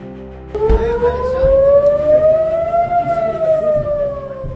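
A loud air raid siren in Israel starts abruptly and holds a rising, wailing tone, sustained and steady, with faint background rumble beneath it.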